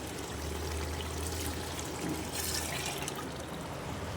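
Two cups of mutton soup pour steadily into a pot of biryani, a continuous close liquid rush with no pauses or talking.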